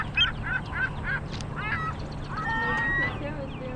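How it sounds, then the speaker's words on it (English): Geese honk several times in quick, nasal calls on a boardwalk, close by, followed by a longer honk, with a person talking alongside them. "Oh, there go a bird."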